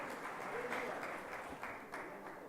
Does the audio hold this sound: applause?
yes